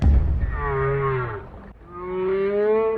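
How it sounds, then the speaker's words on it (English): Long, moaning whale calls played through a car stereo, two slow sweeping tones with a brief pause between, filling the small enclosed space of the car. "It's whale sounds."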